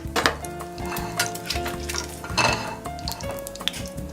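Food sizzles steadily as it fries in a hot oil bath, the crackle continuous under scattered clinks of a pan and utensils, fairly close with no voices.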